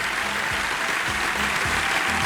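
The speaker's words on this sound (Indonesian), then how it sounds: "langsung kita berikan tepuk tangan meriah kembali untuk mereka yang bergabung bersama kita" Audience applause for the finalists at an Indonesian league championship event on stage, a steady dense wash of clapping that fills the whole moment, with a faint voice murmuring low underneath.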